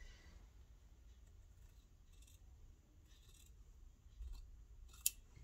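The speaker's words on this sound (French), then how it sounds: "Là, on coupe où nous avons fait nos marquages." Scissors cut through fabric along marked lines, giving a few faint, soft snips spaced apart in a quiet room, ending with a sharper click.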